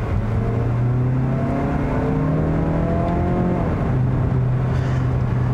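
A 2020 Mazda CX-30 small SUV accelerates hard in manual shift mode, engine revs rising steadily, then a shift drops the pitch before it climbs again, loud and close from inside the cabin.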